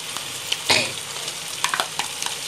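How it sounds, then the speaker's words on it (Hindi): Tomato puree frying with garlic in a pan for a fish curry, giving a steady close sizzle with a few sharper spattering bursts and stirring scrapes, with no talking. "ये देखो अभी ये टमाटर प्यूरी डाल रहे"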